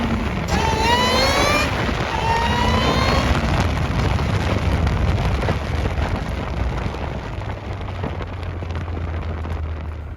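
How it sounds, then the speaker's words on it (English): A supercharged Ariel Atom 3 engine roars loudly and continuously, with a rising whine sweeping upward as it accelerates hard, then settles into a steady low drone. "you can hear the supercharger in the intake, and it's really loud"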